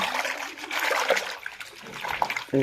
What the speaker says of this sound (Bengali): পরিষ্কার জল দিয়ে ভালোভাবে এক কসলাই কসলাই ধুয়ে নিতে হবে